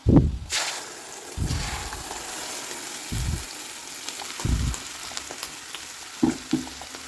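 Oil sizzles softly in a pan as ground tomato paste is added, with occasional stirring thumps and scrapes punctuating the steady frying hiss.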